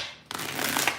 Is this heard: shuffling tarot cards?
yes